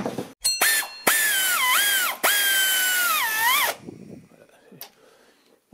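Power screwdriver driving three screws to refit a sheet metal cover during a service on a 2017 Dacia Duster: three loud, close whining bursts that rise and drop in pitch as each screw seats, with short pauses between them.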